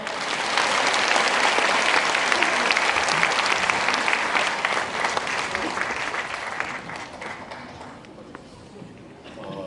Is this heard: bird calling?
no